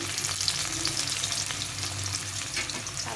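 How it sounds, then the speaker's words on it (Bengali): Five potatoes fry in oil in a pan over a medium-low flame, giving a steady, close, even sizzle with no talking. "মিডিয়াম টু লো ফ্লেমে আমার আলুটাকে ভালো করে ভেজে নেব"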